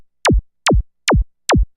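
Synthesized psytrance kick drum with an intense pitch sweep, four punchy hits evenly spaced, each a sine tone diving sharply from high to a deep low thump, loud and isolated.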